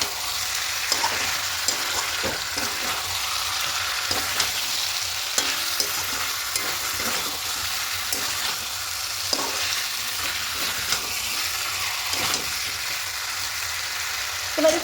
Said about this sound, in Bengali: দেখুন খুব ভালো করে চিকেনটা কষিয়ে নিয়েছি